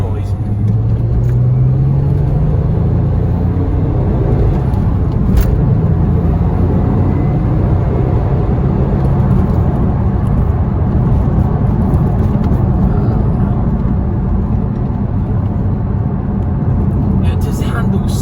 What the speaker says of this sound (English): you can really hear the sound of that flat six, and it makes a glorious, glorious noise